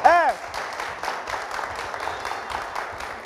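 A studio audience on a Burkina Faso TV variety show claps in a dense, steady patter after a brief sweeping electronic tone at the start.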